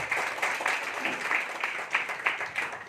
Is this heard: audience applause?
yes